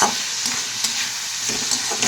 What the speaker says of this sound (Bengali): এবার একটু পনিরগুলো দিয়ে দিলাম, এই ভাজা পনিরগুলো আগে থেকে পনিরগুলো ভেজে রেখে দিয়েছিলাম